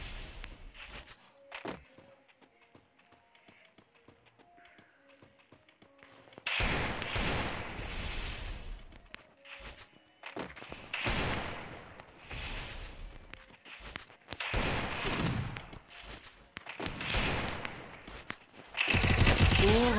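Bursts of UMP submachine gun fire in a one-on-one headshots-only custom battle game, loud repeated volleys from about six seconds onward after quieter opening sounds.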